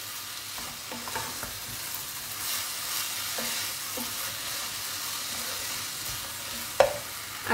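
Boiled chicken pieces being sautéed over high heat in a pan, a steady loud sizzle with occasional scraping stir strokes and a sharp clank near the end, no voices.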